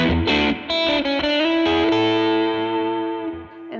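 Electric guitar through a Source Audio One Series EQ2 pedal with boosted low mids and treble, a few quick strummed chords followed by one ringing chord that sustains and slowly decays, bright and full with some distortion.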